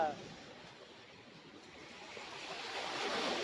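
Surf washing onto a beach at Rasthakadu near Kanyakumari, a steady broadband wash that swells louder toward the end, with wind over it and no talk.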